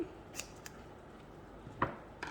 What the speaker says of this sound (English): So just cut about a 2 by 2 square,